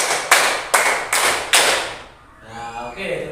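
Four crisp, synchronized group claps land in a steady beat during a classroom clapping game, followed by a short pause and then a faint voice.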